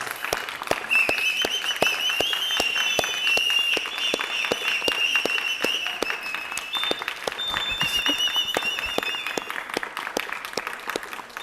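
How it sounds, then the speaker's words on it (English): An audience applauds at the Nithyananda Yoga festival 2022, a record-attempt performance. Dense, sustained clapping continues throughout, with a thin high tone ringing above it. "One more round of applause for us all"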